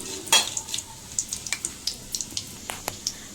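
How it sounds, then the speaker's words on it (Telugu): Whole biryani spices crackle and pop in hot ghee in a pan, a run of sharp, close spits and clicks at a quick uneven pace over a quiet sizzle. "నెయ్యి అయితే వేడెక్కిపోయింది ఇప్పుడైతే దీనిలో హోల్ బిర్యానీ మసాలాని అయితే వేసేసుకుందాం దీన్ని అయితే ఒక వన్ మినిట్ అయితే ఫ్రై చేసుకుందాం"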